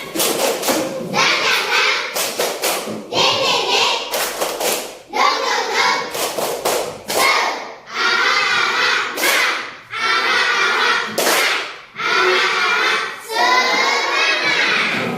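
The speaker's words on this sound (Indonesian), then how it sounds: "Tepuk semangat." A class of children in an Indonesian classroom claps a rhythmic spirit clap (tepuk semangat), with loud, close bursts of clapping in a repeating pattern and short pauses between phrases.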